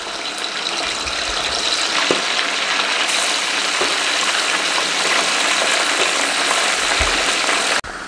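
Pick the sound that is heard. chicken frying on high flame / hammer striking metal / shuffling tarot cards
chicken frying on high flame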